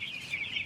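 Chickens on a farm, heard as a brief burst of soft, high clucking and chirping calls that waver up and down, close and moderately quiet, with no talking.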